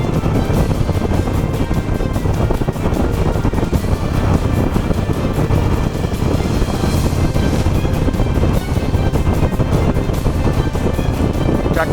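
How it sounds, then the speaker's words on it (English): Engine of a 17-year-old Harley-Davidson Nightster motorcycle while riding in traffic, a dense continuous rumble mixed with loud wind buffeting, with no talking. "She's starting to sound a bit like a Harley."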